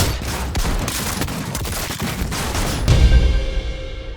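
Shotgun blasts in Cyberpunk 2077, a rapid run of loud booming shots close together, with a heavier final blast near the end that trails off into a fading echo.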